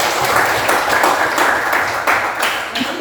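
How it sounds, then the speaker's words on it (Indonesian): A crowd claps steadily for a few seconds, dense and fairly loud, with no voices standing out. "Tepuk tangan."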